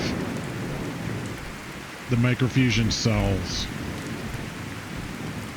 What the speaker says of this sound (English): that rain is a little loud